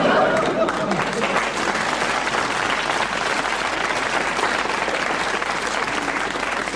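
A large crowd at Euro Disneyland cheers and applauds, a steady wash of clapping and voices that stays constant throughout at moderate volume.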